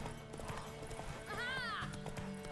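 Faint hoofbeats of a mare racing keep up a steady clip-clop, with a short whinny rising briefly midway under distant background noise.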